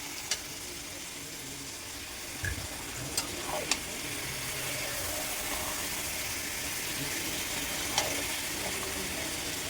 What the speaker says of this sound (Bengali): এবার দেখো মাংসটা দিয়ে দিচ্ছে দিদি, দিয়ে এবার একটু নেড়ে দেবে।